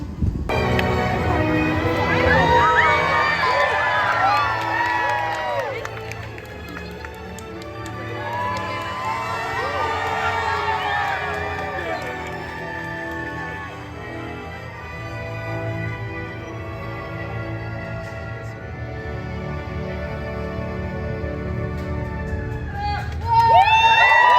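Crowd noise at Disney California Adventure, a steady wash of many voices with bursts of shouting and cheering that swell near the start and again around the middle, loud and close throughout.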